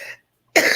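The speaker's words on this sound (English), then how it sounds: "We both over here coughing and choking" A single short, harsh cough bursts out after a brief silence, close and fairly loud, following a fading bit of sound before it.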